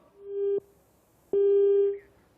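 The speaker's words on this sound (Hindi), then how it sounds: "फोन कट गया है" Two steady electronic tones sound on a cut-off phone line during a live TV call-in show, the first short and the second longer, separated by a brief pause.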